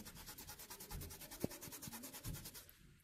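600-grit sandpaper from a hardware store rubs back and forth by hand against hardened callused skin. The faint scratching strokes repeat quickly and evenly, close up, with no talking.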